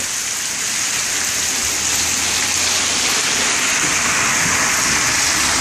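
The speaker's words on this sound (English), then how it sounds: "The water is just flowing over the side to the bend over there." Heavy rainwater pours across a flooded driveway about two inches deep, overwhelming a single drain and spilling over the edge toward the street; a steady, dense wash of rushing water and rain fills the scene throughout, with no talking.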